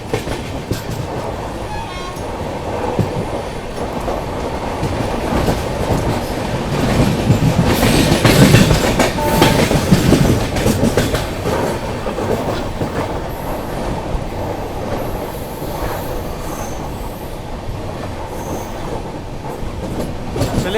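Indian superfast express hauled by locomotives with banker locomotives attached for a climb, passing close by with a steady loud rumble of wheels on rail that swells midway and then eases, no voices.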